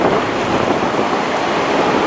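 A small stream flows along a path toward the town centre of Bad Harzburg, a dense, steady rush of water that is loud and close with no voices.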